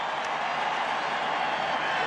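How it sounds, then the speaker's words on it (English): A Washington Redskins stadium crowd at Super Bowl XVII against the Dolphins roars in a steady, dense wash of cheering, loud and continuous throughout. "It's a Redskin crowd."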